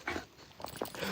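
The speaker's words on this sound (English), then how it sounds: "This is just normal wolf conversation." Pet wolves, including a young one, give short whimpering and yipping calls in a few close, soft bursts, with quiet rustling between them and no speech.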